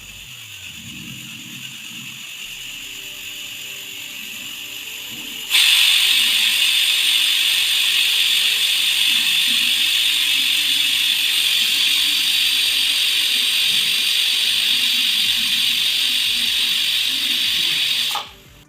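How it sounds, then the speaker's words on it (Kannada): A pressure cooker on the stove cooking rice bath lets out a loud, steady steam whistle that starts abruptly after a quieter stretch of low kitchen clatter, holds at full strength for about twelve seconds, then cuts off sharply. "ಈಗ ನಾನು ಕುಕ್ಕರ್ ಮುಚ್ಚಳ ಮುಚ್ಚಿ ಇದನ್ನು 2 ವಿಷಲ್ ಕೂಗ್ತೀನಿ"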